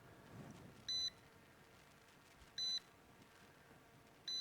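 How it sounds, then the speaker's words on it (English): A KF101 Max S drone beeps three times in short evenly spaced electronic pulses, faint over a low outdoor hiss. "that beeping's still going on"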